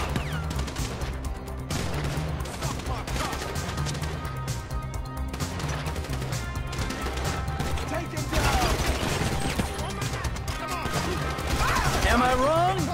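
Chaotic gunfire in a GTA 5 shootout mission, dense overlapping shots and crashes under continuous game music and shouted voices throughout.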